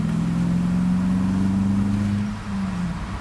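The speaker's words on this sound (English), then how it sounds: "3rd gear, foot to the floor." A cheap V8 car pulls hard in third gear at full throttle, a loud, steady engine drone holding a rising tone for about two seconds before easing off, close up with no voices.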